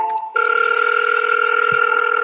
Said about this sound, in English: So this is me calling off of my texting platform, which is why it's coming out of the computer.